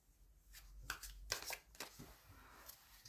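Tarot cards being shuffled in the hands, a run of quick papery riffles and soft slaps that come in several distinct bursts, close and moderately quiet, with no talking.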